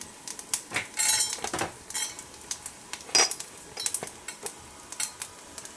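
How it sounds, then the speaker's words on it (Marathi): Peanuts and cumin seeds being roasted and stirred in a pan for kharda, a spicy peanut chutney. Quiet scrapes, taps and clinks of a utensil against the pan recur in an irregular rhythm, with one louder scrape partway through. "आता शेंगदाणे घालायचे जिरे घालायचे परत भाजून घ्यायचे"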